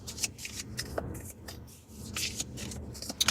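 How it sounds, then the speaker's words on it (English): Tarot cards being shuffled by hand, a soft papery riffling and rubbing that runs continuously at close range with small flicks and taps, no voices. "Let me shuffle these up."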